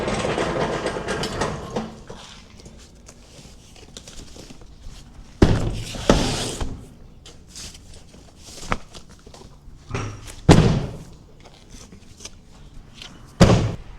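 Cardboard boxes being set down on a round table at a produce stand, several loud thuds and slaps at irregular intervals over background rustling and handling noise.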